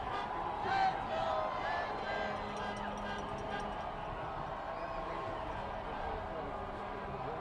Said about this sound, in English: see this crowd go wild with a cup right in front of us